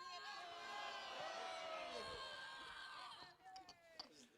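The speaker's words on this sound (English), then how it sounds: "1 more great rousing cheer." A crowd at 'Iolani Palace gives a final rousing cheer, a dense, sustained roar of many voices with whoops that fades out near the end, leaving scattered fainter shouts.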